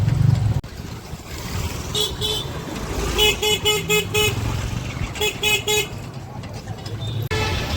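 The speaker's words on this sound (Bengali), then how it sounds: "আমরা বাস স্ট্যান্ডে চলে এসেছি" Busy bus stand traffic with repeated bursts of car and vehicle horns honking close by over a steady engine rumble, with people talking in the background.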